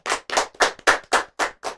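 Seven short, evenly spaced bursts of clapping from a school podcast audience, each sharp and close, separated by brief silences in a steady rhythm.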